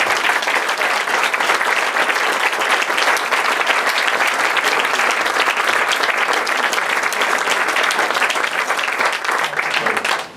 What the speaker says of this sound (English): You have applauded me so much that I'm planning to run for office.